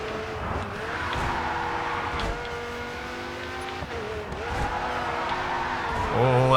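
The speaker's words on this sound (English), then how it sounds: "Oh, that was too much of a drift." A car in the GRID 2 racing game drifts and skids, its engine holding a steady whining drone while tyre squeals rise and fall. The sound builds louder toward the end, and a faint voice talks underneath.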